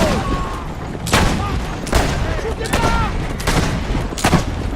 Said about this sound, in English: Having a good old go at this gun though before we have to destroy it.